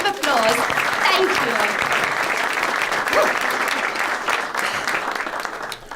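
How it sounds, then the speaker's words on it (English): A theatre audience at a comedy Victorian stage magic show applauds loudly and steadily, a dense wash of clapping that holds for several seconds and tapers slightly at the end, with a few voices mixed in. "Let's give him a big warm round of applause."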